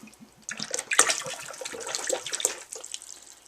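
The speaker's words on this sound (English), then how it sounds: "Just pour the whole bottle in" White grape concentrate glugs and splashes as a whole bottle is poured into a bucket, a close, irregular liquid pour starting softly then becoming fuller.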